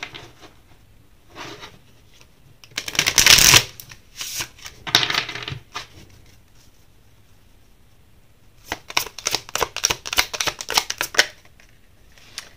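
Tarot and oracle cards being shuffled by hand, coming in two bursts of crisp riffling and flicking, the first short and the second longer and busier, with quiet pauses between them.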